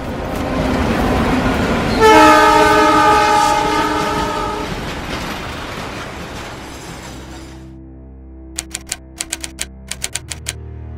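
A loud train horn blares over the heavy roar of a passing train, which fades away, followed by a few sharp clacking taps.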